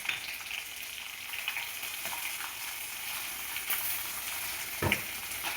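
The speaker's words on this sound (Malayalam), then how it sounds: "2 വറ്റൽമുളകിട്ട് അതിൽ കുറച്ച് കറിവേപ്പില ഇട്ട് അതിൽ ഉഴുന്ന് പരിപ്പിട്ട്" Dried red chilies, curry leaves and urad dal fry in hot oil for tomato rice, giving a steady close sizzle with small pops and a brief clatter near the end.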